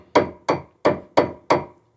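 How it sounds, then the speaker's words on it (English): Five sharp, evenly spaced hammer blows knock a screwdriver behind a trailer hub cap, metal-on-metal strikes ringing close and loud with no talking. "You just knock it with this hammer a little bit back"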